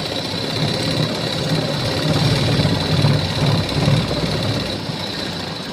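A sewing machine stitches a blouse neckline, running continuously with a steady, close mechanical hum and whir that swells slightly midway, with no talking.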